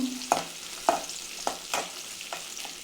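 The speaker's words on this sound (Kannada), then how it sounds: "ಈರುಳ್ಳಿ ಹಾಕ್ತಾಯಿದ್ದೀನಿ ಸಣ್ಣಗಚ್ಚಿರೋದು ಇದೊಂಚೂರು ಫ್ರೈ ಮಾಡಬೇಕು" Finely chopped onions fry in hot oil, a soft sizzle punctuated by five or six evenly spaced spoon scrapes and taps against the pan, close and clear with no voices.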